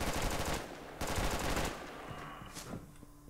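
Sniper rifle gunfire in the video game Red Alliance: two loud, sharp shots about a second apart with rattling tails, followed by softer mechanical clicks and a fading sweep.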